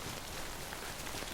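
Steady rain pattering on surfaces in the video game Death Stranding, a dense, even hiss with no distinct drops, quiet and continuous.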